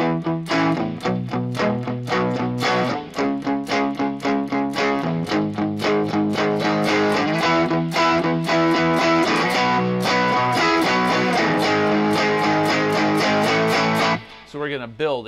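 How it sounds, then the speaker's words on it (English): Heavily distorted electric guitar chords strummed in a steady, driving rhythm, loud and thick throughout, cutting off abruptly near the end. "I'm playing heavier and the distortion gets a little bit heavier because I'm hitting the strings harder"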